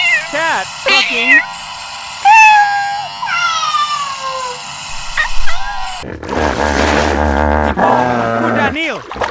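A cat meows several times, rising and falling calls close by, followed by a louder, busier stretch of repeated mewing over a low hum.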